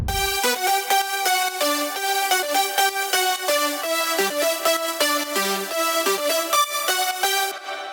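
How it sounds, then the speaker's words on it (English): A bright, layered progressive house synth drop lead plays a rhythmic, stepping melody with steady pulsing chords underneath, loud and continuous with no voices. "So the drop lead sounds like this."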